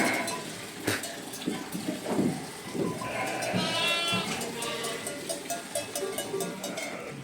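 Sheep bleating nearby among the clatter of livestock moving about, with metallic clinks of bells and occasional faint voices.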